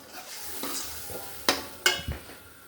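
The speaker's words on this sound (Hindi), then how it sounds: "ये मसाला भुन जाएगा" Masala with dry coriander being fried in a pan for aloo gobi: faint sizzling under scraping stirs, with a few sharper clinks of the spoon against the pan and no talking.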